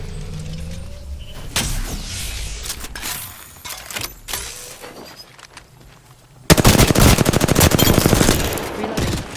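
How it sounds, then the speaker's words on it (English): Automatic gunfire in a shooter video game, bursts of rapid shots building into a loud sustained stream near the end, with game sounds and brief voice lines around it. "Getting shot at."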